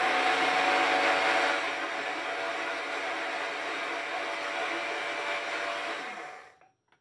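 Cookworks electric coffee and herb grinder running, a steady dense whir that drops slightly in pitch partway through, then cuts off abruptly near the end; loud and close, no talking.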